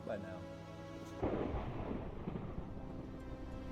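Game thunderstorm: a low rumbling crack of thunder breaks over a faint tonal background, followed by a continuing rolling rumble with rain-like hiss, heard fairly quietly.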